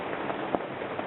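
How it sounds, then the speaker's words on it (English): Heavy rain pours steadily during a thunderstorm, a dense continuous hiss with a faint crackle near the middle and no talk. "it's raining pretty hard right now"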